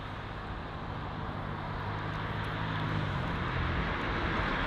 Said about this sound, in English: the reverse thrusts on board the 757, or just generally the sound that it makes, is, you know, deafening